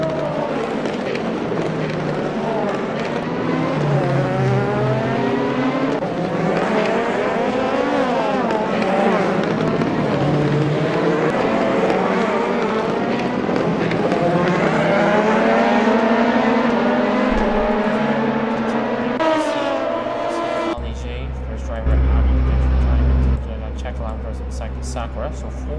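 Race cars running on a circuit during a live endurance race broadcast, engine notes sweeping and overlapping continuously, loud and steady, with a commentator talking over them throughout.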